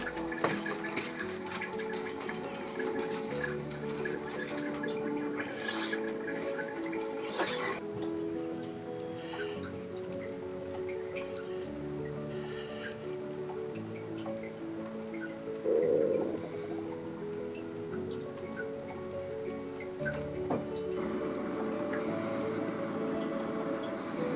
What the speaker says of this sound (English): Rain starts to fall as Steve takes the tender along the shore of Cameron Cove.